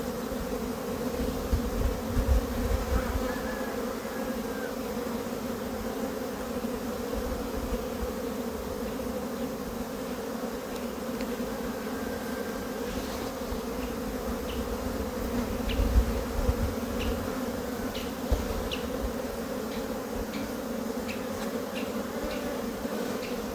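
Honeybees hum at an open hive during an April inspection, a dense continuous buzz close by with occasional louder passes of individual bees.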